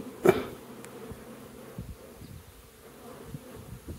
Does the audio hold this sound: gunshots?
no